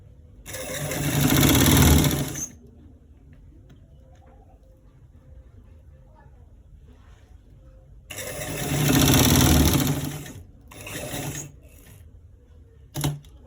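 A sewing machine stitches a collar roll in three bursts of rapid mechanical whirring: two long runs of about two seconds each and a shorter one, separated by quiet pauses.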